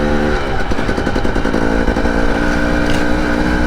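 Husqvarna TE 300i two-stroke dirt bike engine running steadily while riding, a loud, close, continuous buzzing drone with slight pitch wavering and no pauses.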